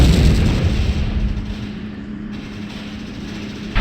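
A tank cannon fires in the war game Valkyria Chronicles, a loud booming blast with a rumbling low-end decay that fades over several seconds, followed by a fresh burst of noise at the end.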